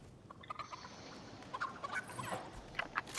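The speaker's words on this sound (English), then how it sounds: "I have a chicken. Yeah, I'm gonna chuck the chicken." Chicken clucking and gobbling in the Fortnite video game, faint, repeated calls over a busy game soundscape with no talk.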